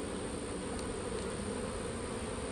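Honeybees in a queen-rearing builder hive hum in a dense, continuous buzz, close and steady throughout with no talking.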